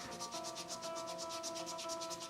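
Rhythmic back-and-forth rubbing of sandpaper on a hard figure, quiet and close, with even strokes repeating steadily throughout.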